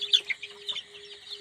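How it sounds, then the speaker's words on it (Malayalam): Young chickens peep close by in a quick run of short, high chirps, several overlapping within a second and a half, with no talk. "എന്താ നല്ല സൂപ്പർ കോഴിക്കുട്ടിയൊക്കെ ഉണ്ട് കാരണം, നല്ല നല്ല കോഴിക്കുട്ടികളാണ്"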